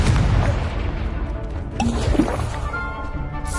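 A Confringo spell explosion goes off in Hogwarts Legacy, a dense booming blast with crackling debris over continuous game background noise, fairly loud throughout.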